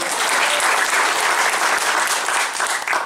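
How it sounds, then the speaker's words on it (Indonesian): A crowd at a community welcome gathering in a village claps loudly and continuously, a thick, even burst of applause that tapers slightly near the end, with no speech. "Tepuk tangan"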